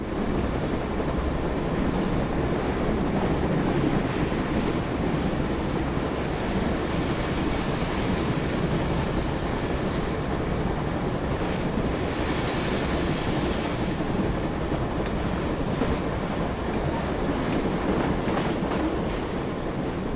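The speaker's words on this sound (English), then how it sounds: "We're on the train now." Continuous train-ride noise from the Secret Files: Tunguska video game: a steady, loud rumbling wash with a hiss, holding unchanged for about twenty seconds with no speech.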